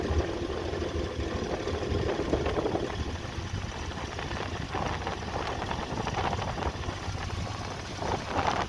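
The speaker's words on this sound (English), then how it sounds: "I love her new tractor." A tractor engine idles at a vintage tractor show, a steady, close, continuous rumble that holds its pace throughout with no voices over it.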